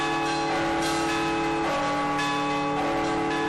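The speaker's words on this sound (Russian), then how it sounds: "Сегодня колокола звучат по всему Алексеевскому району" Church bells ringing at a bell festival in Alekseevskoye, Tatarstan, played by master bell ringers, several bells sounding together in overlapping strikes with long resonant humming tones, loud and close.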